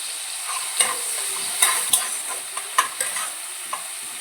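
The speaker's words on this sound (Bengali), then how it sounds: "এবার আমি দিয়ে দিব বেটে রাখা পেঁয়াজটা" Ground onion paste frying in a pan with softened tomatoes and crushed garlic, a steady sizzle broken by repeated sharp scrapes and taps as a spoon stirs the mixture.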